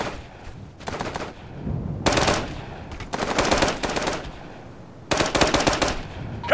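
Rifle and machine-gun fire in the military shooter Operation Flashpoint: Dragon Rising, loud bursts of rapid shots repeating in several volleys with brief gaps between them, with no talk over them.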